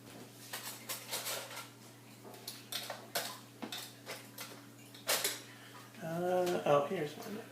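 Someone rummages through a drawer of metal utensils looking for a spoon, with clinks and rattles of cutlery at close range, followed by a brief spoken voice near the end.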